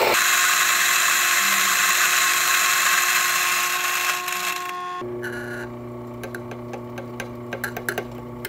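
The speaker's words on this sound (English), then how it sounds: "Begin to grind, turn it on the side, and then you have to hold this button the whole time that you're grinding." A Rancilio Rocky espresso grinder grinding coffee beans, a loud, steady high-pitched motor whir for about five seconds that then cuts to a lower hum with light ticking and tapping.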